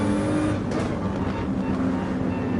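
Race cars in Gran Turismo 7 running together in a tight pack, a steady, loud blend of engine drone and tire noise with no clear single pass-by, continuous throughout.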